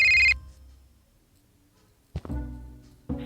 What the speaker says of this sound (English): when a phone suddenly starts ringing